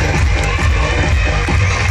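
An audience at a ladies' home game show claps and cheers, a loud, dense, steady wash of applause filling the whole moment.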